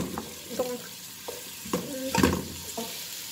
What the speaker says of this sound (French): je fais revenir les oignons comme vous voyez je fais revenir les oignons